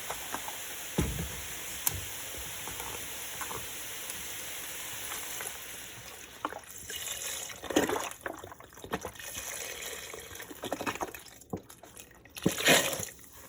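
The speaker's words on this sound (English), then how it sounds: "I'm going to add 3 quarts of chicken broth." Chicken broth is poured into a soup pot during cooking, making a continuous watery splashing and trickling with a few louder sloshes and clanks.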